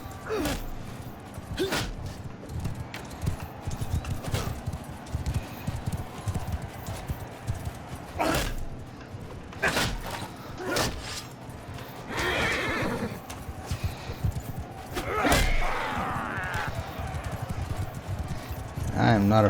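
Horses gallop in a medieval battle video game, their hooves drumming in rapid clip-clop rhythm alongside occasional whinnies and sharp impacts, with a voice talking over much of it.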